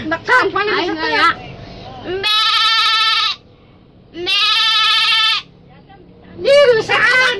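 A human voice imitates an angry sheep, giving two long, strained bleats between bursts of chatter from several people.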